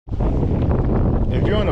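Wind gusting across an open lake at a fishing tournament on Lake Amistad, a loud steady roar buffeting the microphone throughout, with faint water and boat sounds underneath.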